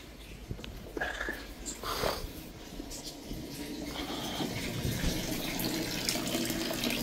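Tap water running in a home, a faint steady splashing flow that builds and grows more continuous over several seconds, with soft clatter early on and no talk.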